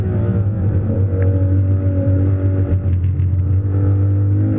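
Ferrari LaFerrari engine droning loud and steady on the Fiorano test track, a sustained deep hum with gentle rises in pitch as the car eases off, no talking over it.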